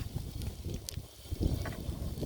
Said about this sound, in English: You see how windy, it's blowing things everywhere.